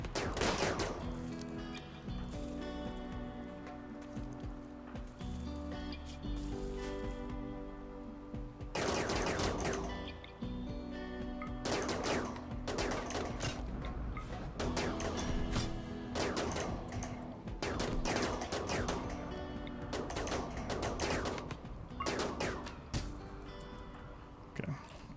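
Shotgun gunfire in the video game RimWorld cracks out in sharp bursts and scattered volleys over a long battle, fairly faint, with game music underneath.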